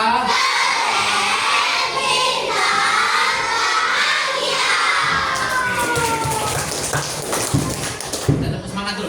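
A crowd of sixth-grade schoolchildren shouts together in a loud, lively class chant, with cheering and rough overlapping voices filling the space.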